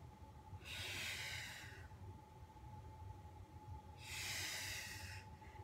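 Two long, loud, breathy exhales during an abdominal exercise, each lasting about a second, separated by a quieter pause, close to the microphone and without speech.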